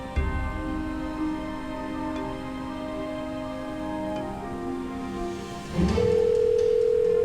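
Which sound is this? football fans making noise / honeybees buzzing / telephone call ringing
telephone call ringing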